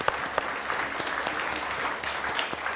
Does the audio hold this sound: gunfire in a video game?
no